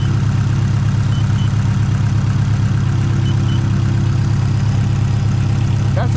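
A car engine fitted with a Garrett turbo idles steadily, a loud, even low rumble with a fine regular pulse and a faint turbo whine, with no change in pace throughout.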